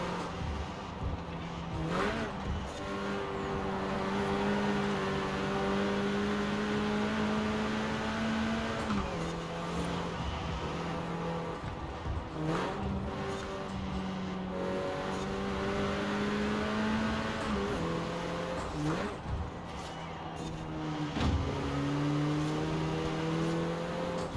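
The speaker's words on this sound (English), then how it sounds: "it keeps making the noise that I'm grinding gears" A Clio R.S. 16 Concept engine in Forza Horizon 4 drones and revs continuously, its pitch stepping up and dropping as gears shift, with an occasional rough, grinding edge.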